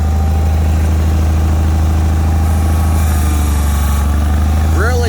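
Kohler 23HP 945cc engine on a Bolens HT-23 garden tractor running at a steady idle, a close, loud low rumble with regular pulsing throughout and a short squeak near the end.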